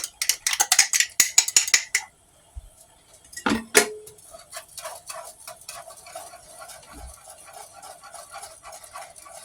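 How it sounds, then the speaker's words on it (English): A spoon scrapes and clinks in a pot of homemade flour gravy as it comes to a boil on the stove, with quick repeated taps and strokes that settle into a steady, softer ticking rhythm, close and with no talking. "Give it another stir."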